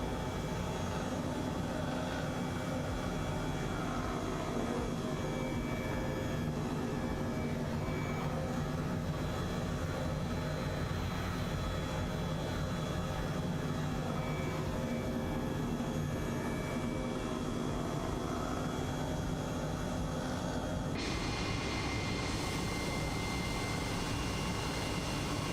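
Steady, loud engine and rotor drone of a helicopter flying low over a city with a hospital below in Microsoft Flight Simulator, continuous throughout with a slight shift in tone near the end.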